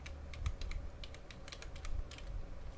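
Quick, uneven keystrokes on a computer keyboard, close and fairly quiet, clustered in short runs with brief gaps, no voice.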